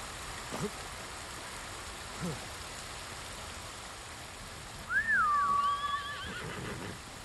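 A horse in Ghost of Tsushima lets out a single loud whinny midway, over steady rain falling and a few faint hoof clops.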